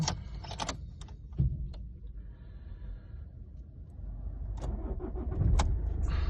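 A 2008 Toyota Avensis engine is cranked and started after some clicks and key handling, then settles into a low, steady idle heard close up in quiet surroundings.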